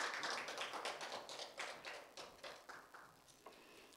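Scattered hand claps from the audience at Korea Cyber University's 2022 degree ceremony as a master's degree is conferred. The claps are close and distinct and come in uneven bursts that thin out and fade over a few seconds.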